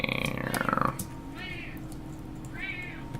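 A pet cat named Norris meows twice in a drawn-out, rising way, close by, after a louder burst of voice and background noise at the start.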